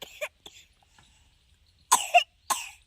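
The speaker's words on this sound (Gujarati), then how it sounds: "ઉધરસ આવી" A few short, faint coughs in a quiet village setting, a brief one at the start and then a clustered pair near the end, with near silence between them.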